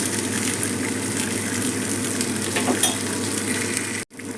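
Fish fries in a pan with little oil, giving a steady, close sizzle with bubbling crackle that runs unbroken before stopping abruptly.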